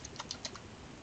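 A handful of quick, light keystrokes on a computer keyboard, close and clear, then quiet.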